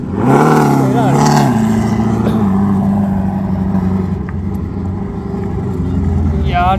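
A Ferrari drives past at a Japanese car show at Fuji, its engine note rising and falling nearby while someone talks over it.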